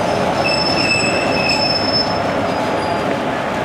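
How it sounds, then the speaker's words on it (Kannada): A train at Kanyakumari railway station, the last stop at the end of India's rail line, rumbles loudly and close, with sustained high wheel squeal ringing over a dense steady roar. "ಇಂಜಿನ್ ಇಲ್ಲಿಗೆ ಸ್ಟಾಪ್ ಮಾಡ್ತಾರೆ ಅನಿಸುತ್ತೆ."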